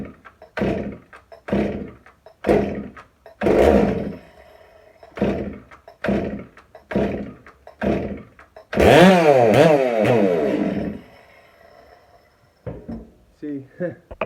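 A ported Farmertec kit chainsaw is pull-started repeatedly in a rhythm of sharp cord yanks, then fires into a brief loud revving run before cutting out and sputtering.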